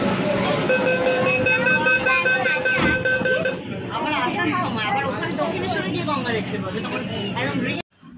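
A metro train stands at a station platform as doors open, with a steady electric hum, beeps, tones and a babble of nearby voices and talk over the platform noise.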